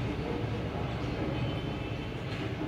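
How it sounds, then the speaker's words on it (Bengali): A metro train passes near a flat's balcony in Garia, near Kavi Nazrul metro station, producing a steady, moderately loud low rumble that fills the whole moment. "এই যে মেট্রো যাচ্ছে দেখতে পাচ্ছেন"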